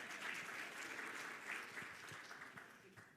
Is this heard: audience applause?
yes